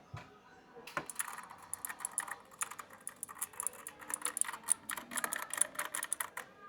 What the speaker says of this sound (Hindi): ये कलरफुल कीबोर्ड गेमिंग के लिए। आवाज़ सुनते हैं इसकी।